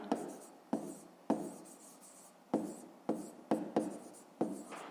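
A pen scratches across paper in short handwritten strokes during a fifth-grade maths exercise, each stroke starting with a crisp attack and fading, about eight strokes spaced irregularly, close and quiet with no talking.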